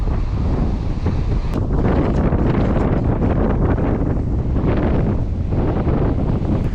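Strong wind buffets the microphone in a loud, constant roar, with gusty rumbling and no clear voices.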